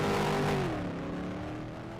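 A Twin Triple V6 race car pulls away under a green light at a Superstar heat race, its engine note loud at first, then dropping in pitch and fading steadily over about two seconds.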